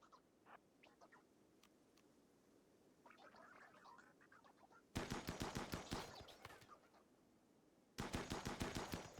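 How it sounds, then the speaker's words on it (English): Assault rifle fire in the RimWorld video game, starting after quiet ambient sounds: two loud bursts of rapid automatic shots, each lasting a few seconds, with a short gap between them. "So I guess it's just go shoot them with assault rifles time."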